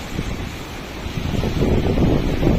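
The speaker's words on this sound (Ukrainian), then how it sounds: "А ні, ось дивіться, йде якась хвиля." A small sea wave rolls in with a building wash of surf under gusting wind noise, growing louder toward the end, with no talking.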